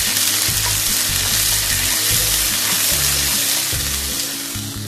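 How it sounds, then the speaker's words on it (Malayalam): Onions with ginger-garlic paste sauté in a pan for beef varattiyathu, a steady close hiss of sizzling with stirring scrapes and low pan clatter running throughout. "ആ ഇഞ്ചി വെളുത്തുള്ളി പേസ്റ്റ് കൂടെ ഇട്ടേക്കാം, ബാക്കിയുള്ള നന്നായി വഴറ്റിയെടുക്കുക"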